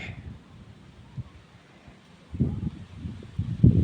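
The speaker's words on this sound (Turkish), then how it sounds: "Şiddetini azalttı yalnız rüzgar." Wind blowing through a home garden, heard as low rumbling gusts buffeting the microphone, soft at first and then stronger, repeated bursts in the second half, with no talking.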